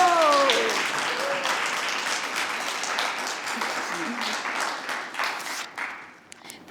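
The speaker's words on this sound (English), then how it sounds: "could we have a round of applause for our fantastic Daisy and the work she's done today" A round of applause for a speaker at an oration, a steady burst of crowd clapping with some voices, gradually fading toward the end.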